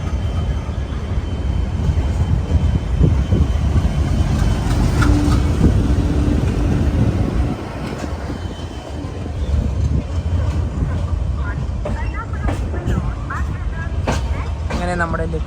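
A weekly express train pulls into platform 4 at Ernakulam Junction railway station, a loud continuous low rumble and rolling noise with scattered clanks and squeals, easing slightly partway through.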